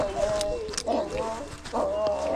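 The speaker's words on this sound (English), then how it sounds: "All the dogs are going crazy." Several dogs barking and whimpering excitedly at an animal shelter, overlapping yelps and whines in a busy, reverberant space, fairly close and continuous.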